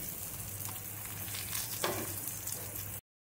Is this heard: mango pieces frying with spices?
yes